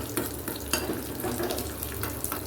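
Chili and curry leaves frying in a pan for kuthiraivali pongal, a soft, steady sizzle with scattered crackles and pops, fairly quiet and without talk.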